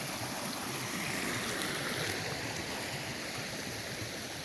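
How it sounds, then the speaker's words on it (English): Creek water flowing with a steady broadband rush near a mining and camping spot, continuous and fairly close, with no voices. "Got a creek here."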